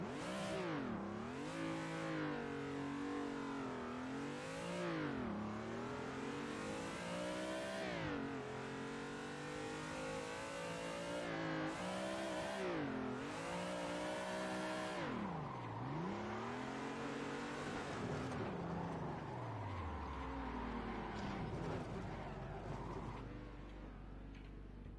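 A car engine in a racing video game revs hard and continuously while drifting, its pitch rising and falling in repeated sweeps before the car spins out and settles to a low idle.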